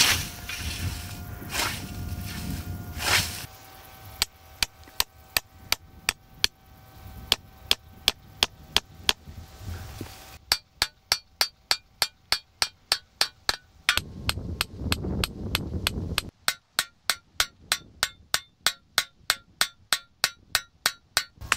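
Scythe blade being peened with a hammer at a hay camp in Transylvania, Romania: long runs of sharp, evenly spaced metallic taps close by, with brief pauses between series and some background noise.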